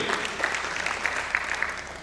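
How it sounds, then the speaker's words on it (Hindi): An audience applauds at a Hindi stage play, a steady patter of many hands clapping at moderate distance, fairly quiet and even throughout. "जोरदार ताली उसके लिए भी"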